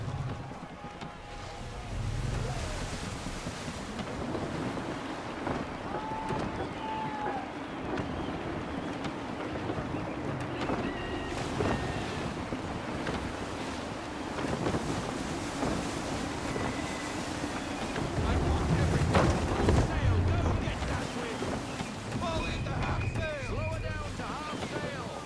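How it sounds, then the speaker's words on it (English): Gusty sea wind buffets a sailing ship in Assassin's Creed III, a steady broad rush with swells of water and creaking, building louder near the end, with faint voices now and then. "Wind looks to be shifting. Stay alert, Connor. Gusty winds can be difficult to manage."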